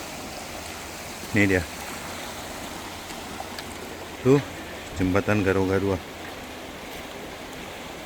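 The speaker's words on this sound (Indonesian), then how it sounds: "Nah ini sungai ya." A river flows steadily past a flood-hit village near a bridge, a broad constant wash running throughout the clip while someone speaks in short bursts over it.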